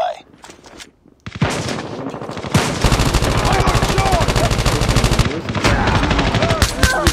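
Burst-fire M16 rifle shots in COD Mobile, loud rapid cracks repeating in quick groups after a brief quiet start, with other game sounds underneath.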